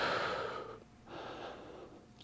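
Deep breathing during a stretching exercise with a stick: a long, audible exhale, a pause, then a second softer breath, close and clear with no talk.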